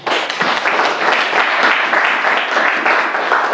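A church congregation applauding after a sermon reading: steady, dense clapping at close range fills the whole stretch without a break, with a faint voice or two mixed into the crowd noise.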